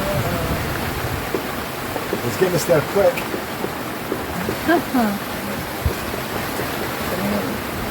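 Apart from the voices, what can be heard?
rain falling on a sailboat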